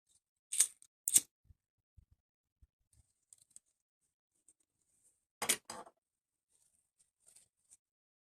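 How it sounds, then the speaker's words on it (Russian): Scissors snipping dark crochet thread, a couple of quick sharp cuts close up, then a pause and another pair of snips, with faint small clicks in an otherwise quiet room. "Темная нить нам больше не понадобится, я ее обрезаю."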